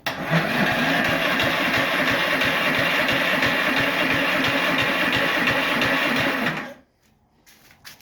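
A Poulan Pro chainsaw engine is cranked and sputters steadily for several seconds without catching, with a loud rhythmic chugging that cuts off abruptly near the end.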